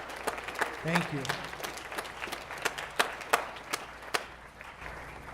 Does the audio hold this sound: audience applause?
yes